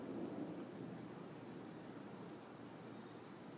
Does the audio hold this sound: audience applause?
no